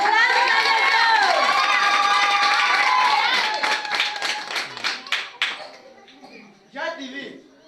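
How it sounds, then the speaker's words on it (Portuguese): Church congregation at a Wednesday evening service bursting into loud clapping and shouting with voices mixed in, the applause fading into scattered claps and a few final bursts. "Aplausos a"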